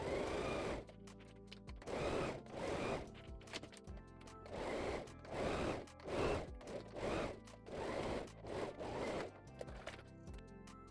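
A sewing machine top stitches the side seams of a muumuu dress in repeated short bursts of whirring stitching, separated by brief pauses, close and fairly quiet.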